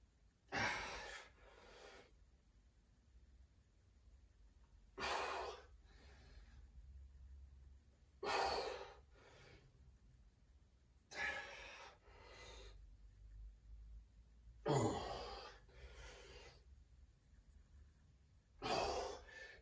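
A person breathes heavily after a no-equipment lower body home workout, with loud, forceful exhales and gasping inhales recurring every few seconds, close to the microphone in a quiet room.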